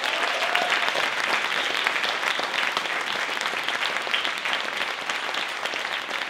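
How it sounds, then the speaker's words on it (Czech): Sustained audience applause at a Czech St. Nicholas celebration for the sound engineer, a dense, steady wash of many hands clapping together, fairly loud and even throughout with no talk over it. "velký potlesk pro zvukaře Petr Bazel"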